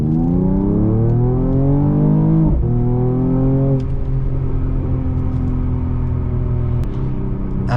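A Mercedes E53 AMG accelerates hard at full throttle, its engine note climbing loudly in pitch, dropping briefly at a gear change near two and a half seconds, then climbing again as a sustained roaring drone close by.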